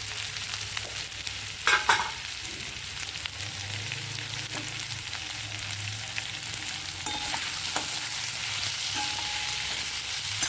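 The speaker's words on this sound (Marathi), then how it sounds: "आणि 1-2 मिनिटं याला छानपैकी परतून घेऊया" Mixed bhaji vegetables sauté in a pan with ginger-garlic paste and salt, a steady sizzle broken by scrapes and clatters as the mix is stirred, close and fairly loud with no talking.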